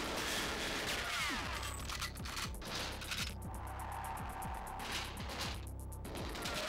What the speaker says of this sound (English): Just heard gunfire from over there.